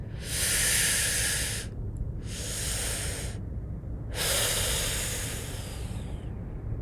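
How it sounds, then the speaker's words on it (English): Three loud, airy mouth breaths come up close, two inhales then a longer exhale, over a low constant rumble. "So that's 2 inhales, 1 exhale, all through the mouth. And it will sound something like this."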